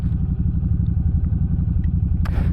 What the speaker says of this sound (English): So you can see when it's idling like this, it goes down a lot.